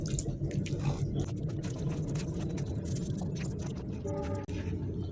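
Water poured into patishapta pitha batter and stirred in with a spoon; a steady, close, wet swishing and trickling that runs continuously.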